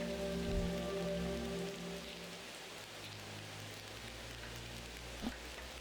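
Rain falls in the video game Shenmue 3 as a soft, continuous hiss, faint and even throughout, with a low hum underneath and a single brief tap near the end.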